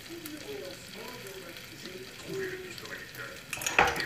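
Potatoes and garlic fry in a pan, a soft sizzle under scraping stirs and clatter of a utensil, with a sharper metallic clink near the end and a voice speaking over it.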